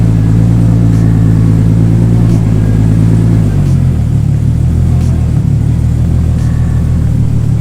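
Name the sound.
Nissan R32 Skyline exhaust with Vibrant muffler, engine running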